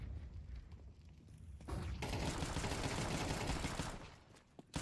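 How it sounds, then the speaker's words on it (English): A flashbang grenade goes off in a competitive shooter match, a sudden broad burst of noise that holds loud for a couple of seconds before fading back to the quieter game ambience. "That is good flashbang."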